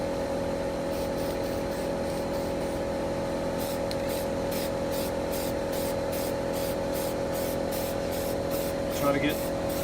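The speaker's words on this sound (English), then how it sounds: "So you take your spray paint." An aerosol spray paint can sprays black paint onto hardware-store parts for a Return of the Jedi lightsaber, giving steady hissing bursts in a repeated stroke rhythm over a constant background hum.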